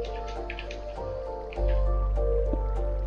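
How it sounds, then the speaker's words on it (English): Water trickles and drips beneath bedrock in Minecraft, a steady close liquid sound laid over soft in-game tones, with no talk. "Oh yeah, there's a bunch of water under here."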